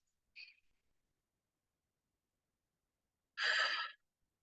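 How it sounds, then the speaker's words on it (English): A deep breath during a guided grounding meditation: a short faint inhale near the start, a long silence, then one loud, breathy exhale released alone. "we're going to start off with a deep breath in and release"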